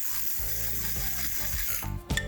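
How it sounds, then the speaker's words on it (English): An electric spice grinder grinds rice in a string of short, close whirring motor pulses, with a harsher rattling burst at the end. "we can simply add it into our spice grinder"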